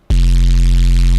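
Synth noise saturated together with a sub bass bursts in abruptly and holds as a loud, dense, steady roar over a deep droning low end for about a second.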